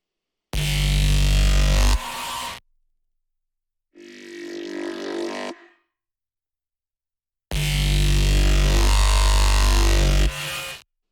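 Heavy, buzzing synthesized neurofunk drum and bass bass in loud sustained bursts separated by silence, with a thinner, filtered bass phrase in between, no voices.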